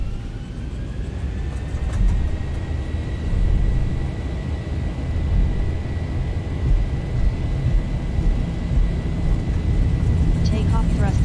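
Airliner engines spooling to takeoff thrust in the Zibo Mod Boeing 737 flight simulator on departure from Rome, a steady loud roar with a faint whine above, a voice talking over it.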